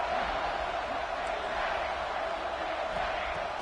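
A football stadium crowd roars steadily as fans rally behind the defense in the red zone, a broad sustained wall of cheering with no break.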